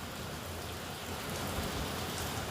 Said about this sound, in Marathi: बाहेर पाऊस येत आहे जोरदार